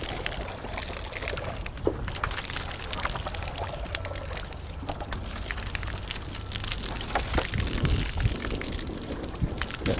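Water rushes steadily into the supply pipe of a homemade hydraulic ram pump, a loud, continuous pouring and splashing that fills the whole stretch with no talk over it.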